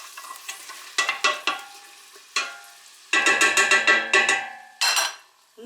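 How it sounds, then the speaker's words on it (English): Onions stirred and frying in melted lard in a pot, loud close scraping strokes with bursts of sizzle in an uneven rhythm, swelling into a busy run of stirring before a final scrape. "The lard is melted, so I'm gonna add the onions next. Give it a good stir."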